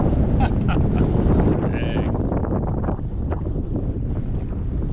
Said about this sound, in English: we're thinking the wind's kind of coming up through here